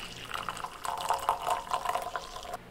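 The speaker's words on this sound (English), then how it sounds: "Once it's ready, I pour myself a nice hot cup of coffee." Hot coffee is poured into a cup in an office, a close, continuous liquid trickle and gurgle lasting a few seconds without any talking.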